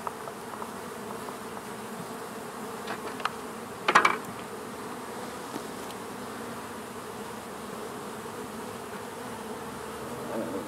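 Honeybees from an opened hive with frames of worker brood hum as a steady faint buzz, with a brief louder burst of an insect passing close to the microphone near the middle.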